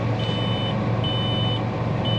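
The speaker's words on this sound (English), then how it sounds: "whenever you guys get in a tractor and you start it, and it just instantly starts beeping" An 8320 tractor fitted with a 7-shank ripper gives a warning alarm: three evenly spaced high electronic beeps, each about half a second long, over a constant low engine hum.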